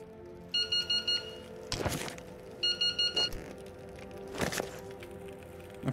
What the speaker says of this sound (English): I forgot there was an alarm tied to it.